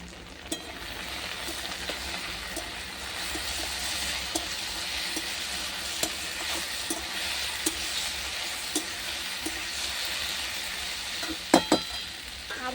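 Chopped onion and ripe red chilli fry in a pan under a loose lid, giving an even, soft sizzle dotted with small pops, with a couple of clinks near the end.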